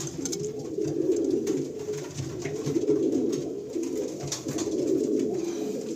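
Pigeons of a breeding pair coo steadily in a loft, a low rhythmic rolling call repeating in waves throughout, close and fairly loud with no talking.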